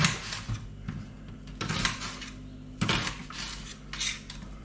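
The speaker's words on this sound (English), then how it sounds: "Cutting the onion up." Repeated knife chops through an onion on a cutting board, sharp thuds spaced roughly a second apart over a low steady hum, fairly quiet and close.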